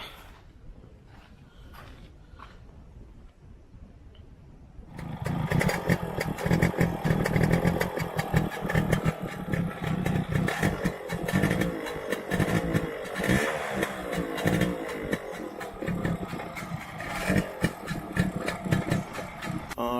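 A Yamaha RX100 two-stroke motorcycle with a bored engine and aftermarket silencer starts up after a few quiet seconds, then runs loud and close with a rough, crackling idle and occasional revs, with no talking.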